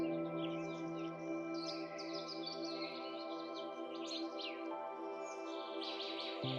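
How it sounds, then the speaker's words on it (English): Songbirds chirp and trill at Lake Moraine, bright bursts of calls scattered through the clip over a sustained warm musical drone, moderately faint and blended into the background. "The birds sing melodiously"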